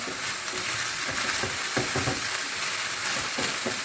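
Minced meat seasoned with Maggi cubes, black and white pepper and spring onion sizzles steadily in a pan, with soft, irregular stirring scrapes rising over the constant frying hiss, close and with no talking.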